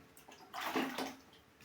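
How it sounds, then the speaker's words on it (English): Water poured into a bucket while making liquid soap with caustic soda, salt and CMC, a short splashing pour of about a second that swells and fades, close by. "We shall go in with our water. Usually let me pour it by the side"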